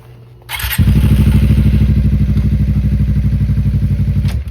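Suzuki GSXR motorcycle engine starting and then idling, a loud close-up rumble with a rapid even pulse that runs steadily before cutting off, a fault where it stalls when put in gear.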